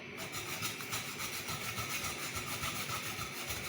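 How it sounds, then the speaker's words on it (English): Fresh carrots are rubbed against a metal grater in quick repeated strokes, a rhythmic rasping scrape that continues steadily and close up with no voices. "Now continue grating it. Grate it."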